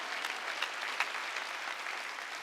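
A church congregation claps steadily during a Sunday worship service, a dense wash of many hands with no voices on top.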